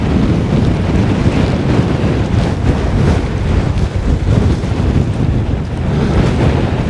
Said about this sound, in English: I'm going against the wind all the way up here.